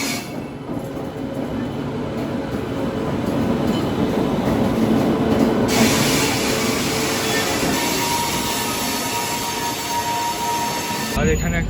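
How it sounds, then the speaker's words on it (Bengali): Rajdhani Express rolling along, heard from inside an AC first-class carriage: a continuous loud rumble of wheels and rails with rising hiss partway through and a sudden change at the end. "আমাদের রাজধানী এক্সপ্রেস"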